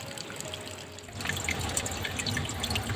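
Water runs from a pipe under a tank and out through a rubber hose, a steady rushing flow that grows louder and fuller after the first second and continues alone.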